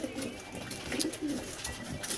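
Racing pigeons in a stock loft coo softly and steadily, with several overlapping murmuring calls in a quiet indoor space.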